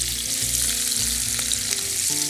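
Onions with soaked almonds and cashews sauté in a pan, a dense, loud continuous sizzle with faint stirring clicks, close up, while a tonal background hum runs beneath.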